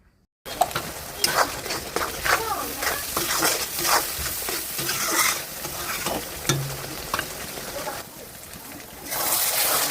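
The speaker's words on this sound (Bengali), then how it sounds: "মশলাগুলো সুন্দর করে এর মধ্যে দিয়ে দিলুম, আর পরিমাণ মতো হলুদ আর লবণ দিয়ে এলা সুন্দর করিয়া সিম আসে কষে কষে ভাজি নেবো" Ground spices with turmeric and salt frying in oil in an iron wok, a lively sizzle with repeated scraping strokes of a stirring spatula, while a voice talks over the cooking.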